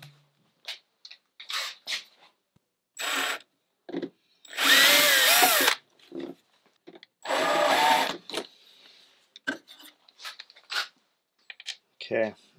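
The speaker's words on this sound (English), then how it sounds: "I'm just going to drill this as a pilot hole," A drill whirs in several short bursts while drilling a pilot hole in a sailboat deck, with two longer loud runs in the middle and quieter clicks and handling sounds between.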